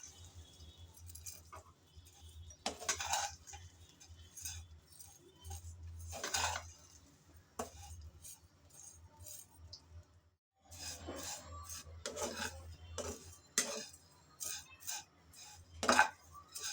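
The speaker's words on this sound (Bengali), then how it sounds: "সেমাইগুলো দিয়ে আমি প্রথমে ঘিয়ের মধ্যে নেড়ে চেড়ে হালকা করে ভেজে নেব।" Vermicelli is stirred and fried in ghee in a pan, with intermittent clinks and scrapes of a utensil against the metal pan over a low hum, quiet and irregular.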